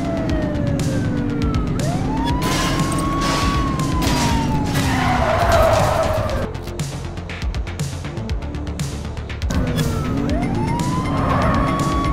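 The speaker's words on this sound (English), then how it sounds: "Looks like we're in for a police pursuit." A police pursuit in the video game The Precinct: wailing sirens rise and fall over a loud engine roar and tire squeals, continuous and close for about twelve seconds with no talk.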